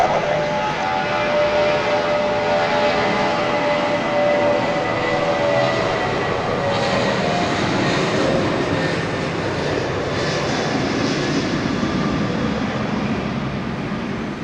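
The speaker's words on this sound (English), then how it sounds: "This flight 954 off to Nashville. It's a 737-700." Boeing 737-700 jet airliner on flight 954 at Dallas Love Field, a loud continuous engine roar and whine that holds steady across the whole span.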